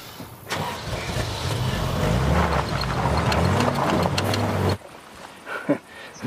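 A car engine catches and runs, a steady rumbling drive for several seconds that cuts out abruptly, followed by quieter scattered sounds and faint voices.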